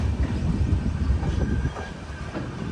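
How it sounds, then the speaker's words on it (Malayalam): A train pulls into Samdari Junction railway station with a steady low rumble and faint clickety-clack of wheels on rails, close and continuous without voices. "സമദടി ജംഗ്ഷൻ റെയിൽവേ സ്റ്റേഷനിലേക്ക് ഇതാ നമ്മുടെ ട്രെയിൻ എത്തിക്കൊണ്ടിരിക്കുകയാണ്"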